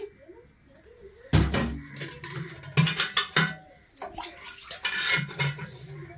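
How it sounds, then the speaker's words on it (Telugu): Water for sugar syrup splashes and gurgles into a metal pot on a stove in bursts, mixed with clanks of cookware being handled nearby. "ఇందులో ఒక పావు నీళ్ళు పోసుకుంటున్నాను, వాటర్ వేసుకుంటున్నాను పాకం కోసం."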